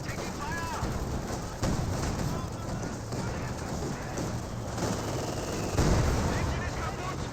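Gunfire and small arms shots crack through a Company of Heroes 2 battle, with dense bursts and thuds layered under continuous spoken commentary.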